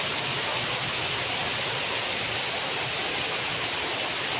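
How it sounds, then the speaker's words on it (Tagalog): Heavy typhoon rain from Typhoon Goring pours steadily in Mariveles, Bataan, a dense and even hiss of downpour with no breaks and no voices. "Malakas na naman ang ulan dito."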